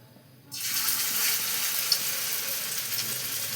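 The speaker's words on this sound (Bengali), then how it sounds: "একটা একটা করে চিংড়ি মাছগুলো ধরে বেশ দিচ্ছি" Cabbage-leaf, shrimp and masoor-lentil fritters drop into hot oil in a wok: a steady, close, bright sizzling hiss starts abruptly after a brief quiet moment and continues evenly to the end.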